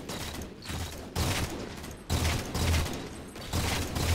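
Halo 4 multiplayer gunfire in a Genesis map doubles match, rapid bursts of shots repeating in four loud clusters roughly a second apart, dense and close with a low thump under each volley.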